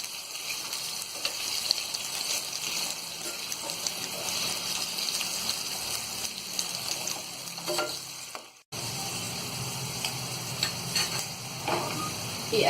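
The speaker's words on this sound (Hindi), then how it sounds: "ये अरबी गोल्डन ब्राउन हो गई है और इसे हमने फुल फ्लेम पे ही फ्राई किया है" Taro root (arbi) pieces frying in hot oil on full flame, a steady dense sizzle with occasional stirring scrapes, close and loud, briefly cut off once before resuming.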